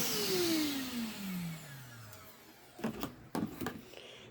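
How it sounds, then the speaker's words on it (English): A Vacmaster 5-gallon wet/dry shop vacuum rated at 3 peak horsepower winds down after running, its whine falling steadily in pitch and fading. Several short knocks and clatters follow up close. "this is the vacmaster 5-gallon 3 peak horsepower shop vac"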